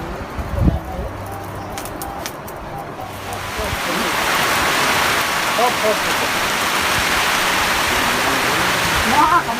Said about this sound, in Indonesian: Hujan besar banget tuh.